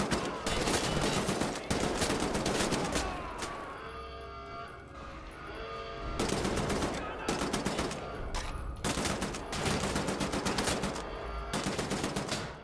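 Bursts of rapid gunfire from Wolfenstein: The New Order crackle loudly, several automatic volleys separated by brief quieter pauses with low rumbling in between.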